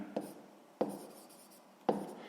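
Pen or chalk writing during a sixth-grade math exercise, three sharp taps and strokes spaced evenly with soft scratching between them, close and without talk.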